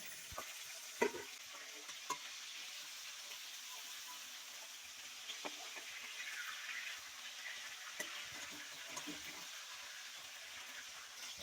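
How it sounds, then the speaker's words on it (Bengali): Steady sizzle of hilsa fish frying in mustard oil with a green chilli fills the clip, with occasional soft clicks and taps of a utensil against the pan. "এখানে ইলিশটা ভাজার জন্য সর্ষের তেলে আমরা একটা লঙ্কা দিয়ে তারপরে মাছগুলো আমরা সুন্দরভাবে ভেজে নিয়েছি।"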